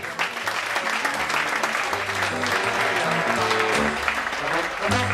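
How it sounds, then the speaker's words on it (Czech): An audience at a Czech entertainment-arts awards ceremony applauds, a loud, dense and continuous clapping from a full hall that holds steady throughout. "Tleskáte, usmíváte se."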